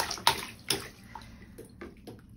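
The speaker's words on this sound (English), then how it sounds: "now you're getting to splash in the tub" A child splashes water in a bathtub with a few sharp, close splashes followed by softer sloshing and dripping, and no talk.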